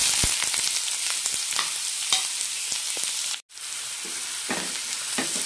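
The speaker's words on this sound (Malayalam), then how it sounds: "ഇതിലേക്ക് ഇനി ചെറുതായി അരിഞ്ഞ രണ്ട് സവാള ഇട്ട് കൊടുക്കാം" Chopped onions frying with cloves, cardamom and bay leaf in hot oil for tomato kurma, a dense close sizzle with stirring scrapes, briefly cut to silence before the frying resumes.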